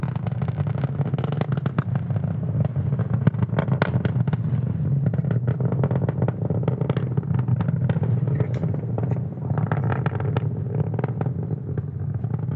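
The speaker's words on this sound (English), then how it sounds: "Falcon 9 accelerates through the thicker, lower atmosphere" SpaceX Falcon 9 rocket engines thunder during ascent through the lower atmosphere on the Turksat 6A launch, a continuous loud crackling roar that stays dense and unbroken, heard from a distance.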